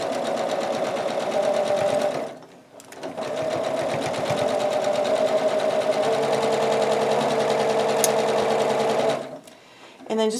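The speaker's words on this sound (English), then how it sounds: "I'm going to just lower my presser foot and just start sewing, do a little bit of a back stitch at the beginning" Sewing machine stitching an infinity scarf from fabric, a loud close steady mechanical whir in two long runs, stopping briefly in between and again near the end.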